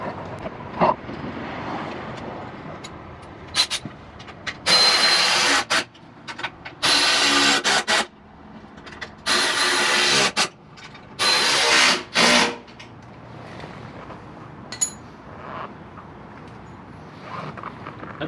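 Bolts on Can-Am Renegade ATV floorboards tightened with a power tool, several loud bursts of whirring and ratcheting, each a second or so long, separated by quieter clicks and handling noise, close up.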